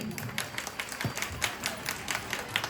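Scattered clapping from a women's crowd at a Teeyan festival gathering in a Punjabi village, a loose patter of hands at moderate distance with faint background murmur, continuing steadily without a strong crest.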